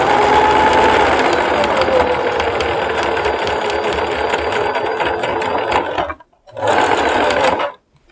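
A sewing machine stitches over a webbing strap while a shoulder bag is made, a fast steady mechanical whir and rattle, close and loud, that stops briefly, starts again for a short run and then ends.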